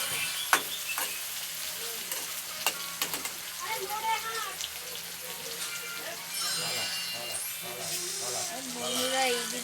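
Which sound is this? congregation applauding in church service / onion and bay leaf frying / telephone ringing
onion and bay leaf frying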